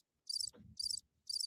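A cricket chirping sound effect plays three short, evenly spaced bursts of high trilling chirps, clear and alone apart from a faint low rumble between them.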